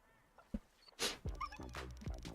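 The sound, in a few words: dog barking in the video game Soviet Spooky Tales: Green Eyes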